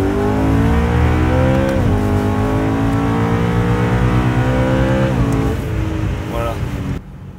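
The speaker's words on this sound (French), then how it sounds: "Je vais accélérer pour m'insérer quand même." A BMW M3 E92 engine accelerates loudly and close, its pitch climbing in steady harmonic sweeps with brief shift dips before the revs fall away near the end, while someone talks over it.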